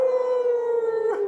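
A man imitates a wolf howl with his voice: one long, loud, sustained tone that holds steady, then bends and breaks at the end. No one talks over it.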